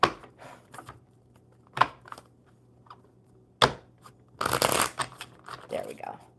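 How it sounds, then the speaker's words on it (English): A deck of cards shuffled in several bursts, crisp riffling and snapping rattles spread irregularly with pauses between, close and clear, a voice speaking quietly between the shuffles. "one more good shuffle."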